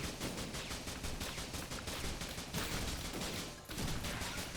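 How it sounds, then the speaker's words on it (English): Machine gun fire in the video game Risk of Rain Returns, a steady rapid stream of shots with a brief break late on, then more firing, moderately loud with no voices. "Now we just got a machine gun"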